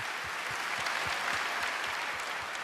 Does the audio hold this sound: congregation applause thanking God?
yes